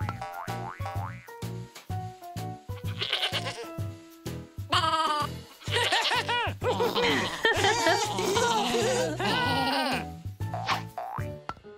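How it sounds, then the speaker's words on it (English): A cartoon goat bleats again and again in a children's farm-animal show. The loud, wavering bleats are mixed with springy, bouncy sound effects in a busy, lively sequence. "Goat."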